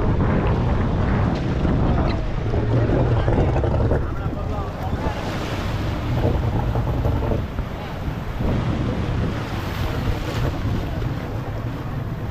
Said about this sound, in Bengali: এই স্পিড বোটে করে এলাম।